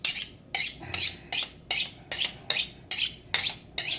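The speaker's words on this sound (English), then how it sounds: "every time you're about to use a knife, no matter what knife it is, sharpen it" A kitchen knife sharpened with quick, even strokes, about eight bright scraping swipes in a steady rhythm, close and alone with no talk.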